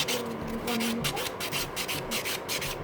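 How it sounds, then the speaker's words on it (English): A rough nail buffer worked rapidly back and forth over almond-shaped salon nails, a dense, continuous close scratching that keeps up steadily for the whole stretch. "I buff those nails"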